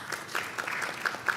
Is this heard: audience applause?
yes